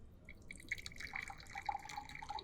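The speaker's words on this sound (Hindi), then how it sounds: "एक दूसरी गिलास में इस फनल के द्वारा इस पानी को पास करता हूँ" Bottled RO drinking water trickles through a funnel into a glass, making faint dripping and gurgling trickles that continue throughout against low background noise.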